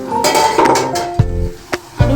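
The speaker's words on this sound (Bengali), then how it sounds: "ঢাকনাটা তুলে নিয়ে দেখবো" A metal lid lifted off a cooking pot of paneer and capsicum curry with potatoes, giving a few sharp clinks and clanks in a quiet kitchen, close by, with no talk.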